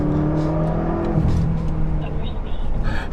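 F10 BMW M5 sport sedan launching off the line with launch control, a loud close engine roar climbing in pitch with a brief shift dip midway, then continuing to pull.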